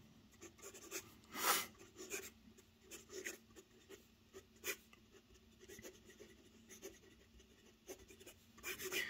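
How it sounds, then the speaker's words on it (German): A Lachieva Lux Abalone fountain pen writes fast on paper, giving quiet, close scratchy strokes in irregular short bursts with brief pauses between them. "das schnelle Schreiben funktioniert auch ganz gut"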